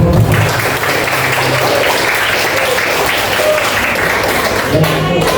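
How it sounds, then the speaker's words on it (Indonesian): Steady applause from an audience fills the whole stretch, dense clapping at a constant level with a faint murmur of voices underneath. "Dari tepuk tangan dulu kelompok terakhir"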